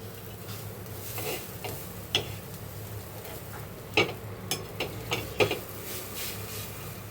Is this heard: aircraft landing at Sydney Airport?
no